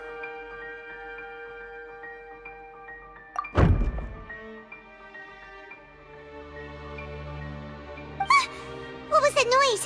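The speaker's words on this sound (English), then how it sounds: "I seem to have accidentally knocked over a decoration" A single sharp thud around the middle as a decoration is knocked over in the video game Genshin Impact, set over quiet background music, with brief squeaky sounds near the end.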